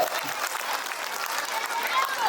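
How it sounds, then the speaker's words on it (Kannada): An audience at a school annual day function claps together in a sustained, dense burst of applause that fills the whole short stretch without a break. "ಅವರಿಗೆ ದೊಡ್ಡದಾದ ಒಂದು ಚಪ್ಪಾಳೆ ಬರಬೇಕು ಅಂತ ನಾನು ಹೇಳೋಕ್ಕೆ ಇಷ್ಟಪಡ್ತೀನಿ"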